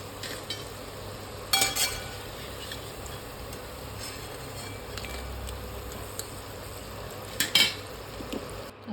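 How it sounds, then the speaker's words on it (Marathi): Spring onion bhaji frying in hot oil, a steady soft sizzle running throughout, with a couple of brief clinks from a utensil around the pan. "भजी आपले तळून झालेले आहेत तर आपण आता त्याला काढून घेऊया"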